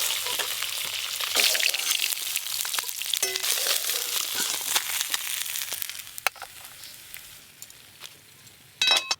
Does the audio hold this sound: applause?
no